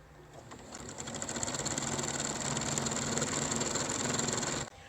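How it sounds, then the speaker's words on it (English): A sewing machine runs a basting stitch to hem a fabric mask, a close, steady whirring rattle lasting several seconds before stopping abruptly. "you're going to come to the machine and you're going to just put a basting stitch to hem this down"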